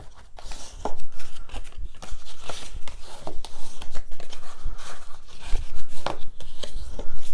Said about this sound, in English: And then I'm going to just fold on all my score lines